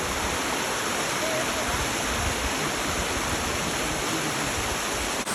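Vasapur waterfall in the Nirmal forest roars as a loud, steady wash of falling water, close and unbroken throughout, with a faint hint of people in the background.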